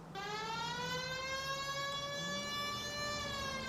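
A police car siren from the game L.A. Noire wails steadily for the whole stretch, loud and up close, with a rising pitch sweep near the middle and no talking over it.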